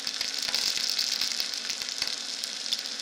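Beef sears in a hot frying pan for a poutine, a steady close sizzle filled with dense crackling and small pops, running unbroken throughout with no voices.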